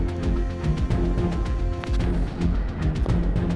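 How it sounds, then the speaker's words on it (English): A cluster grenade in a video game sets off a rapid string of booming explosions and crashes, dense and layered over a rumbling battle background. "Using cluster grenade."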